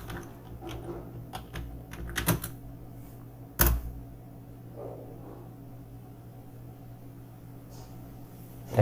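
Typing on a computer keyboard, scattered close clicks in short clusters with a sharper clack partway through, then a long quiet lull of faint hum.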